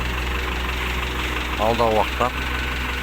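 A tractor engine idles steadily near an asphalt road repair site, a continuous low rumble under a brief stretch of someone speaking.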